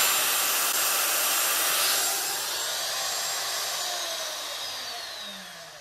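A DeWalt DW616 router running at full speed, giving a loud, steady high-pitched whine that holds for a few seconds and then eases slightly, with no speech.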